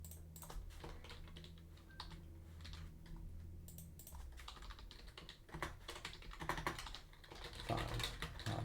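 Fast, uneven typing on a computer keyboard while writing TypeScript code, close and quiet, with bursts of rapid key clicks and brief pauses.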